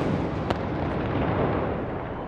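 A single sharp report from an artillery piece firing a ceremonial salute at a presidential inauguration, followed by a long, rolling outdoor rumble.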